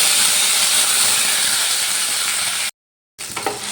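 Ginger-tomato paste dropped into hot mustard oil: a loud, even, hissing sizzle fills the air up close, stops abruptly for a moment, then resumes with faint crackles.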